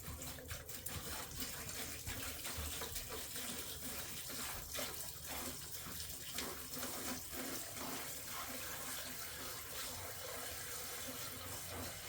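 Spring water pours steadily into a brining bag over a raw turkey, a continuous close splashing gush with no talk over it.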